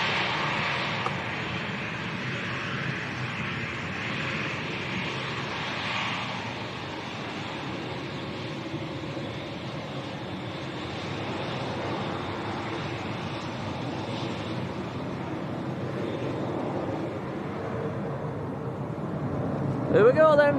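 A KLM airliner departing Leeds Bradford Airport for Amsterdam gives off a steady, broad jet roar that holds loud and even for the whole stretch, swelling slightly near the end.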